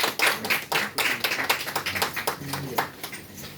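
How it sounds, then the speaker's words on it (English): Hands clapping at an awards presentation for West Africa youth leadership honors, irregular claps with overlapping voices speaking nearby. "Clap, clap, clap, clap, clap."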